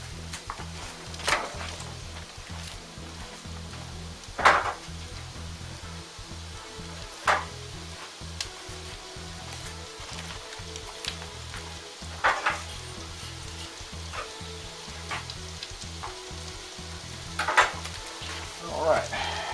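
Diced celery stalks, red onion and cabbage sizzle steadily in a hot pan, a continuous close frying hiss broken by a few louder clatters of stirring and utensils. No one speaks.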